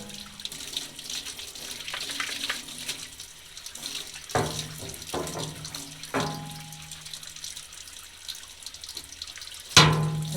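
Running water from a faucet pours steadily as a gummed-up paint roller is rinsed in a paint shop sink, with a few splashy surges, clunks and a sharp knock near the end.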